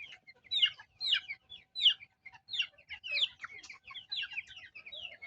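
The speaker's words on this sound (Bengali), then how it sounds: "এটি সব আমার খাঁচার মুরগিগুলো" Caged chickens kept indoors cluck in quick repeated bursts, several birds close by calling over one another against a quiet background.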